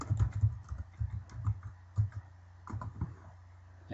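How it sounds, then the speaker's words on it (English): Typing on a computer keyboard in a quiet room, with close, soft key clicks in uneven bursts and short pauses. "And you just type it in here."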